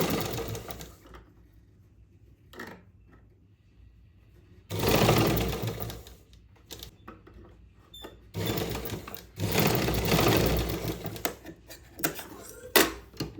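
Sewing machine stitching a blouse neckline with a double line of stitches, running in loud close bursts of rapid whirring clatter between quieter pauses.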